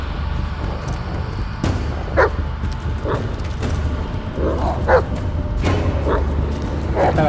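Dog barking in the Blair Witch horror video game, several short yips and barks spaced across the clip over a steady low background drone, with faint voice-like sounds underneath.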